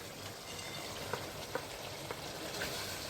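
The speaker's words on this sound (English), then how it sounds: "now we're going to add the peas." Peas dropped into a pan of Catalan chicken rice keep frying with a steady close sizzle, broken by a few soft taps and clinks.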